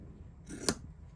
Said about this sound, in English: I'm going to go ahead and trim this a little bit